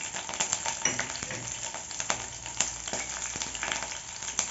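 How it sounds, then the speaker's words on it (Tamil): Garlic and ginger sautéing in a pan for lemon pepper chicken, an even frying sizzle close by with intermittent stirring scrapes and light pops, no talking. "இந்த பூண்டு இஞ்சியெல்லாம் நல்லா நிறம் மாறுற வரைக்கும் நல்லா வதக்கி விடுங்க."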